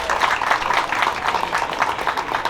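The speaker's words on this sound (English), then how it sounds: "Can we get a clap for that" An outdoor crowd clapping at a Puerto Rican flag raising ceremony in Paterson, a short burst of steady, moderately loud applause from a mid-sized audience.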